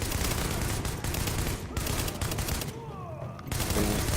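Light machine gun fire in the shooter game The Division, with dense, sustained bursts that keep the sound loud and broadband, a short lull near the end before the firing resumes.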